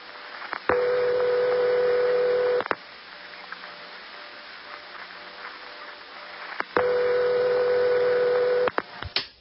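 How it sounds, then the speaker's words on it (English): An office telephone ringtone built from a 500 Hz tone modulated at 40 Hz sounds in two long, buzzy bursts of about two seconds each, separated by a quiet gap with faint line hiss. "Is capable of making the following ringtone. It's called Murry Ring, and here it is from the Murry office"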